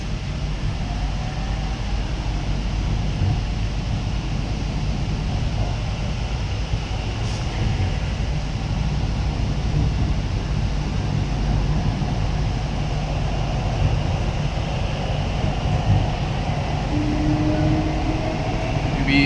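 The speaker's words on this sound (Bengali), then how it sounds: "এই জাস্ট আমাদের দরজা লেগে গেছে, ট্রেন স্টার্ট হয়ে গেছে।" Kolkata's underwater metro runs steadily beneath the Hooghly River, heard from inside the carriage, a constant low rumble and hum with faint squeals, no voices.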